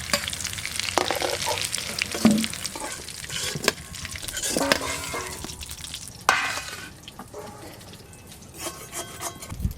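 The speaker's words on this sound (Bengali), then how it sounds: "এই যে এরকম লাল লাল করে ভেজে নিয়েছি" Potato pieces fry in oil in a pan for a thin goat meat curry, giving a close, steady sizzle broken by scraping and stirring strokes of a spatula against the pan.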